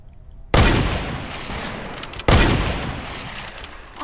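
Two loud, close bursts of gunfire from an attacker shooting at the player in Fortnite, each a sharp crack that decays into a long rumbling tail.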